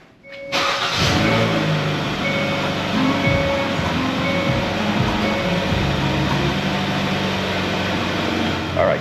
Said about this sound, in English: All right, so now I've got the car on